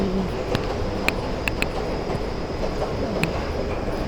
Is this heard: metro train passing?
yes